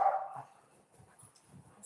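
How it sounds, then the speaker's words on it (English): A dog barks once, sharp and fairly loud at the start, followed by a few faint low huffs and snuffles. "It's my ridiculous dog."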